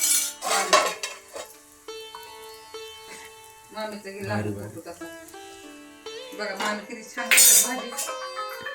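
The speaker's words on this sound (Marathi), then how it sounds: "भाजी पळी हलवून दाखव एकदा" A ladle stirs mutton curry in a pot, making repeated metallic clinks and scrapes, some ringing briefly, while people talk and call out over and between the strokes.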